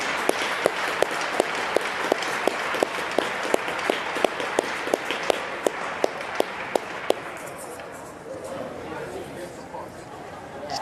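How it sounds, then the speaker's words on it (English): Crowd at a varsity hockey game applauding while players tap their sticks in a steady, evenly spaced series of sharp clicks over the clapping, which thins out toward the end; an announcer's voice and chatter run underneath. "Let's have a big round of applause and stick taps for all of our former alumni and coaches here tonight."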